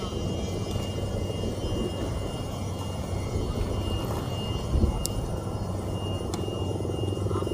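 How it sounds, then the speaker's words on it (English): An Airbus A400 military transport plane departs during a RIMPAC exercise in Hawaii, a broad, steady turboprop roar heard from some distance, loud and unbroken, with a faint voice in the background. "So we have a A400 on our way out."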